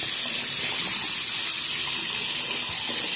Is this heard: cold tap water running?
yes